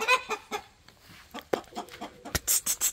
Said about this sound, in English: She is watching the chicken.